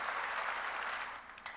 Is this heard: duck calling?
no